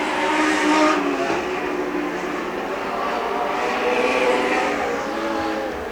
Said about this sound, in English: White flag this time around for our race leader, Kenny Melvin out in front